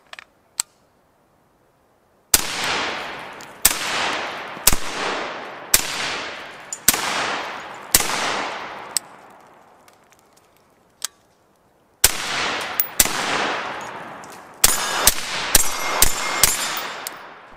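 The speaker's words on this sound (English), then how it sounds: "so I took it out for one last little range trip to try it with a suppressor." A Ruger MPR 16 AR rifle fitted with a suppressor fires at a range, sharp cracks spaced about a second apart, with a pause and then a faster string of shots, each trailing a short ring.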